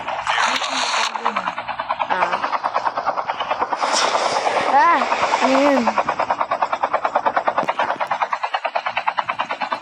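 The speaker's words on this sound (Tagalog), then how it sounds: "Helicopter." Helicopter rotor chop from Call of Duty Mobile gameplay, a steady rapid rhythmic thudding throughout, loud and close, mixed with game sounds while two players talk excitedly over it.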